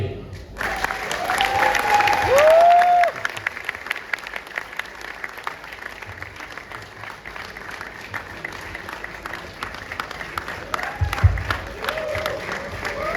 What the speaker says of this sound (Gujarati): જ્યાં સુધી સ્ટેજ પર આવે છે ત્યાં સુધી તાળીઓ વાગવી જોઈએ